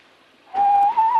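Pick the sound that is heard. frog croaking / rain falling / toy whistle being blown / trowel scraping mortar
toy whistle being blown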